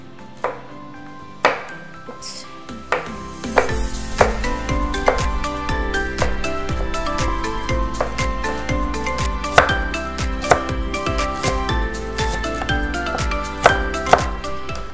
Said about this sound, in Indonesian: Nah ini cabai kita potong-potong